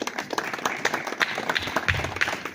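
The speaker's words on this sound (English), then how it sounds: "Come on, a bigger round of applause for Ivan." An audience claps and applauds at a live app launch event, a dense burst of rapid hand claps sustained for a couple of seconds.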